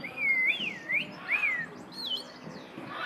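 A hawk-headed parrot named Henry whistles a string of swooping, looping notes, three or four clear bursts close by, then softer chirps trailing off, with no speech over it.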